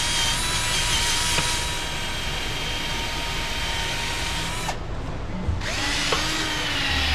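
Power drill spinning a wire wheel to scrape rust off a rear axle, a loud continuous whirring grind that drops out briefly near the end and then resumes.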